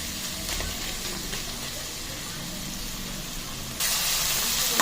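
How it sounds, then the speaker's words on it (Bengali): Onions sizzle in hot rendered goat fat, a steady close frying hiss that grows brighter and louder near the end. "চর্বিটা থেকে তেল বেরোবে, এতে একটু পেঁয়াজটা আবার ভাজা হয়ে যাবে।"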